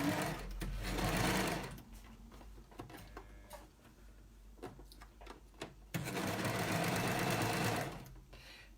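An overlock serger stitching fabric runs in two loud continuous bursts, steady mechanical whirring at the start and again near the end, separated by quieter handling noises and small clicks.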